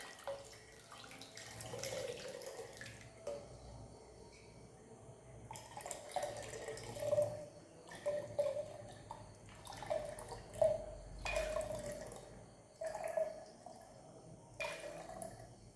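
Homemade grape wine mixture is poured into a jar: a faint, steady liquid trickle with splashy surges over about sixteen seconds, no voices.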